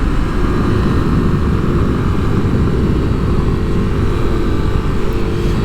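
A 2023 Kawasaki KLX300 SM single-cylinder motorcycle engine droning steadily under acceleration while riding, loud and close with constant wind rush and no talking.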